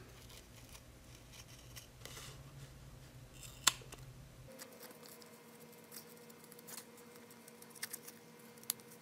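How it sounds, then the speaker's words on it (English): Scissors snip steadily and slowly along a marked line, cutting out a paper appliqué part; soft, close, crisp cuts continue with a few sharper clicks and no talking. "I'm just going really slow and cutting right on that line"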